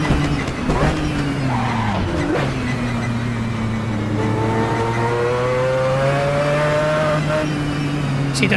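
Tyres of a Mazda 787B race car lock up and skid under hard braking in a racing video game, a long steady squeal with rising harmonic whine over a loud engine drone.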